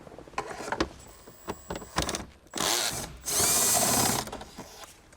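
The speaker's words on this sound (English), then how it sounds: "There's a hole there, I'm going to remove the 10mm bolt." A power drill spins out a 10mm bolt on a 2018-2023 Lexus LC500 interior panel in short bursts. Clicks and taps come first, then two louder whirring runs close by.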